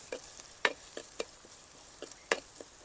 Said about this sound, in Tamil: நல்லா ஸ்டிர் பண்ணி மிக்ஸ் பண்ணணும்.